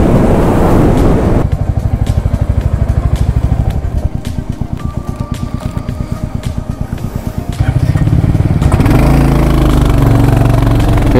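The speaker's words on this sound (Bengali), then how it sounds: "এখনো পর্যন্ত 487 কিলোমিটার আমি বাইক রাইড করেছি" A motorbike cruises along an Indian highway on a long-distance ride, its engine droning steadily and loud close up, with the pulsing exhaust rhythm easing and rising again near the end and no talk over it.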